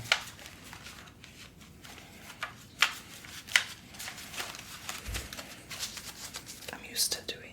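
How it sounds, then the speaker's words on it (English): New tarot cards being hand-shuffled in a quiet room, giving soft papery riffles and slaps in scattered bursts, with whispery breath and faint speech in the background. "I'm not very good at hand shuffling, especially with new cards"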